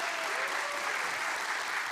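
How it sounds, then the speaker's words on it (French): Studio audience applause on a Halloween television show as costumed guests are presented, a thick continuous wash of many people clapping, loud and even from start to finish. "on peut les applaudir"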